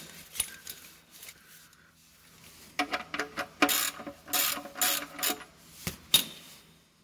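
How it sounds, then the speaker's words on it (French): A 21 mm socket on a ratchet clicks in rapid bursts while loosening the oil drain plug on a Citroën C4 Picasso 1.6 HDi, close and crisp, with scattered metallic knocks. "Donc on se munit d'une douille de 21. Voilà, on va venir desserrer."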